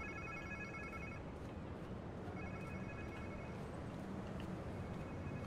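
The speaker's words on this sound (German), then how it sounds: "Klingt wie irgendein Handy." A mobile phone rings in Marvel's Spider-Man 2 on PS5: two bursts of repeating electronic ring tones over a steady wash of game background noise.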